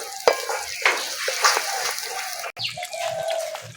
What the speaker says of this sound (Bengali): ভালো করে ভেজে নিতে হবে এই মশলার কাঁচা গন্ধগুলো চলে নিয়ে